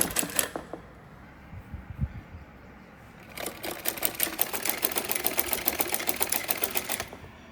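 Sewing machine running in short bursts and then a steady rapid stitching run while sewing the side seam of palazzo pants, close and fairly loud with no talking.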